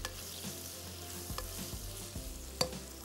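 Chicken frying in a pan over a low flame, a soft steady sizzle with occasional faint clinks and a brief sharper tap near the end, quiet and without voices.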